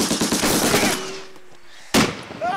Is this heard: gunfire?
yes